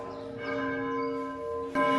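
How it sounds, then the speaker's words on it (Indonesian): A church bell in Bagamoyo, Tanzania rings with sustained, resonant tones that hum and swell, with a fresh strike near the end. "Itu bunyi lonceng gereja ya guys."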